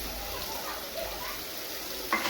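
Beans and carrots fry in oil for a vegetable upma, a soft, even sizzle that runs throughout, with a brief utensil clink near the end.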